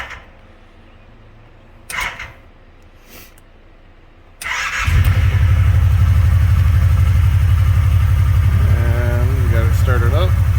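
A Kawasaki Teryx 4 side-by-side is cranked and fires up close by, settling into a loud, steady low idle after a few faint clicks and taps; a person talks briefly over the running engine near the end.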